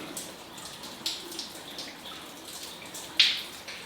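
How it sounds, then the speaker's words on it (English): Water drips and trickles down from overhead along a coastal path on Holy Isle, Scotland, with soft scattered drops over a steady faint wash and one sharper splash near the end. "There's water coming down from above."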